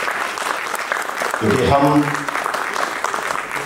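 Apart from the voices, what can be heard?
audience applause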